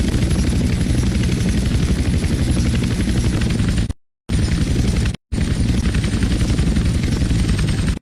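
Skycrane helicopter in GTA San Andreas, a steady loud rotor and engine drone running continuously with two brief dropouts to silence partway through.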